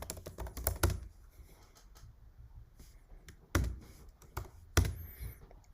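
Code being typed on a computer keyboard, a fast burst of close key clicks, then sparse single taps and a few louder keystrokes, quiet with no speech.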